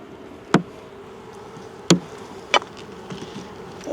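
Honeybees on the frames of an open hive on a farm in winter, a faint continuous buzzing hum under three sharp close knocks or taps.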